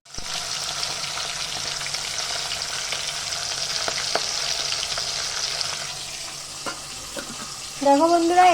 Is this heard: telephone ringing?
no